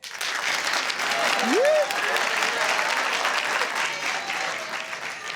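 A comedy show audience applauds to vote, giving a dense, steady round of clapping that fills the whole stretch. A single short spoken word rises briefly over the clapping.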